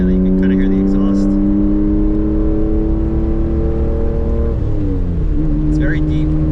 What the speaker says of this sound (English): So this is with the cutout closed. And then you can kind of hear the exhaust.